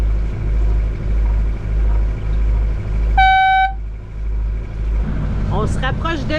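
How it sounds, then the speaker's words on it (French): A boat sounds a single short horn blast in fog near the Mingan Archipelago, rising clearly over the steady low rumble of its engine, with brief warbling tones just after. "Dans le brouillard, on fait un coup de klaxon aux 2 minutes."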